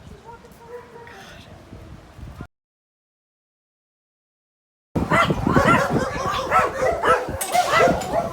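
Several dogs, including rescues from Mexico and a large Great Dane, bark and yip in a lively cluster after a silent gap, with softer dog sounds and faint talk before the pause.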